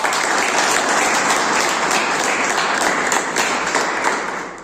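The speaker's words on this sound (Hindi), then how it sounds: "तो एक बार जोरदार तालियों के साथ" Loud, dense applause from a classroom group at a quiz game, continuous clapping that holds steady for several seconds before tapering off.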